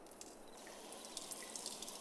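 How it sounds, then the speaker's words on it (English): Beverage poured in Farming Simulator 22, a faint, steady watery trickle with soft drips, heard alone at low volume. "That's the sound of them pouring the beverage."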